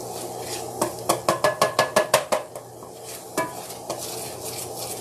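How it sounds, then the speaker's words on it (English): Mushrooms are stirred in a pan on the stove, a run of about nine quick, evenly spaced utensil scrapes and clinks against the pan, then a couple of scattered taps over a faint background hum. "I'm going to put in some mushrooms. I'm going to get these stirred up."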